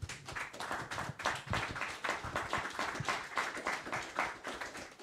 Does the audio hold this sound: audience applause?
yes